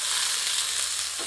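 Kapoore sizzling steadily in hot mustard oil in a pan, a dense, even frying hiss that holds at close range throughout the short moment with no voices.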